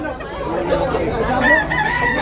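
A white rooster crows loudly and close by at a rooster market in Tabunok, Cebu, its drawn-out call rising and wavering over a background of crowd chatter and other fowl clucking.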